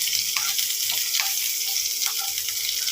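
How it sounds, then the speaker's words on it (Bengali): Chopped garlic and green chili frying in hot oil, a loud continuous crackling sizzle close up, with small bubbling pops scattered across it. "তেল গরম হয়ে গেছে, আমি রসুনের কিছু কুচি ছেড়ে দিচ্ছি আর লঙ্কা কুচিটা দিয়ে দিচ্ছি।"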